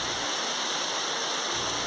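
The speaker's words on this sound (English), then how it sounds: "a severe hailstorm hit the province of Teruel in Spain" Severe hailstorm in Teruel, Spain, heard as a dense, loud, steady roar of hail and rain pounding surfaces, with no talk.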